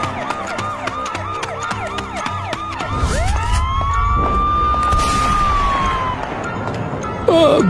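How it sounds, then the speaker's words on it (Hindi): A police siren wails over a steady rumble, starting with rapid warbling yelps and then sweeping into a long rising and falling tone, fairly loud and near. "तभी गांव में पुलिस की गाड़ी का सायरन सुनाई देता है।"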